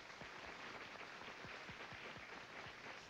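Steady applause from a women's bodybuilding show audience, many hands clapping together in a dense, continuous wash that holds at an even level throughout.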